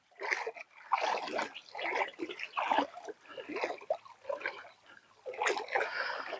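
Wading through warm Mekong floodwater, with repeated soft sloshing splashes from each step, close and fairly quiet, in an irregular walking rhythm.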